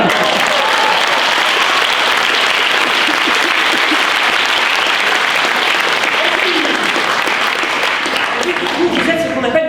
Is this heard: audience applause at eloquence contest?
yes